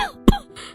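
A man in a cartoon coughs once, sharply and close, after a bite of food made too spicy with chilli, a single short burst followed by a brief breathy tail.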